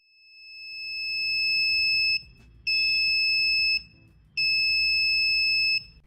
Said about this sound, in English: When an object comes close to the sensor, the system detects it and sounds the alarm.